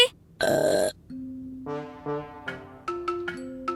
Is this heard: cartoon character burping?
yes